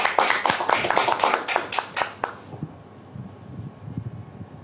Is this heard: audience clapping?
yes